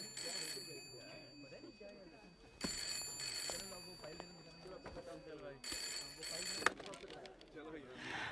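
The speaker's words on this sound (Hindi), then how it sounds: "फोन बज रहा है तुम्हारा, उठाओ।" A desk telephone in an office rings in repeated electronic bursts, each ring clear and fairly close, with short gaps of room noise between them and voices talking quietly nearby.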